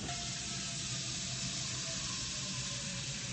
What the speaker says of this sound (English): let me fill this up with water and salt